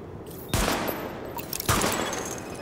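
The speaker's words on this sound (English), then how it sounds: "Open fire at the highlighted targets." Two sharp bursts of weapon fire ring out at highlighted targets during a weapons test in The Division, each a loud crack with a trailing echo, spaced about a second apart with no talking.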